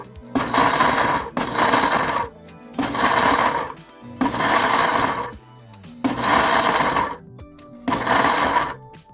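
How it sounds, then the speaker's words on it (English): A kitchen blender chopping nuts for no-bake oatmeal energy bars, run in six loud pulses of about a second each with short silent gaps between, the blades grinding and rattling through the pieces. "put them in the blender and chop them up a little bit so we have smaller pieces"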